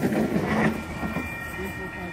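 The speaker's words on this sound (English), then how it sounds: "Blenheim service, passing through platform number 2" A passenger train rolls past a station platform at Wondabyne, a low rumble with faint rail clatter that swells briefly then eases, while an announcer speaks over it.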